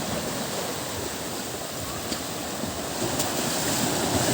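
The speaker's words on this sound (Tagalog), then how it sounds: "So ba't kaya malakas yung alon dito?" Strong ocean waves break and wash steadily along a shore, a continuous loud roar of surf with rushing water and some wind buffeting, no voices.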